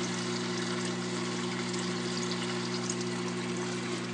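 Water trickles and splashes steadily through a DIY wet/dry aquarium trickle filter, with a continuous even rush and a steady low pump hum underneath.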